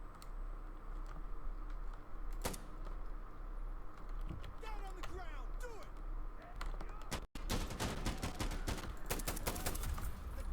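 Rapid bursts of gunfire from the game Insurgency Sandstorm, with several sharp shots early on and a dense run of closely spaced shots toward the end, over a steady background rumble.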